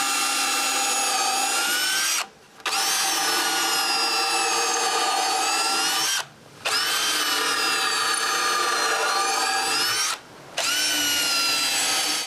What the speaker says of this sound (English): Mark where to drill the pilot holes and drill them.